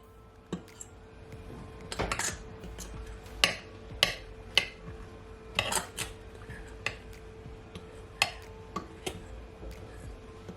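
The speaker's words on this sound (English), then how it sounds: "So I'm just wanna blend it all together." A utensil blends cornstarch coating for pork chops in a bowl: irregular metallic clinks and taps against the bowl over a faint steady hum, fairly quiet, with no talking.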